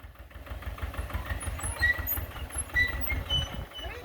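A backhoe engine runs with a low, lumpy idle and irregular throbbing pulses. Faint higher squeaks and clanks sit over it, and no voices can be picked out.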